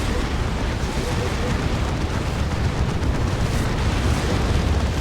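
Rocket-run explosions rumble and crash continuously in a Warhammer 40,000: Dawn of War 2 3v3 battle, a loud, dense wash of blasts and booms filling the whole stretch.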